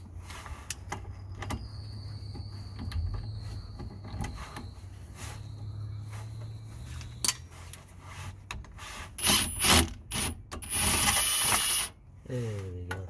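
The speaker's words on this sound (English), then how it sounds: "So just gonna use the impactor." An impact wrench breaks loose the rear brake bolts on a 2005–2012 Vauxhall Opel Zafira B, with short loud whirring bursts near the end after scattered clanks and low rumbling handling noise.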